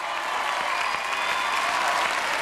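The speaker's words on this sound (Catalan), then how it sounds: "es mereixen un aplaudiment molt fort als professors i professores" A school audience applauds teachers at a spelling-contest final, a dense sustained wash of clapping from a large crowd, loud and even throughout without any voices.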